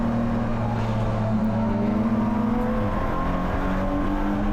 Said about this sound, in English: the Super Touring car is coming by already